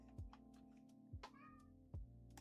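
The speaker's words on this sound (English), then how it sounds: "Cat." A cat meows once, faintly, partway through, over a steady low electronic hum and a few soft thumps in a quiet indoor room.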